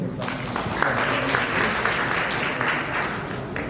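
Audience applause at a Cape Chamber of Commerce and Industries business event, a dense, steady clatter of many hands clapping close by for the full few seconds, with no break.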